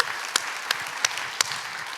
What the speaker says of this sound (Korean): 우리 하나님께 감사의 박수 드립시다.